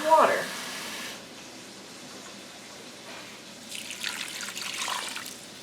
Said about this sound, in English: I'm going to put 1 soup can of water